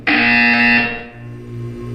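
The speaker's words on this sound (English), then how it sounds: "You will hear a buzzer." A harsh electronic buzzer from the video game Portal 2 blares loudly for about a second, then fades into a lower droning tone that swells again at the end.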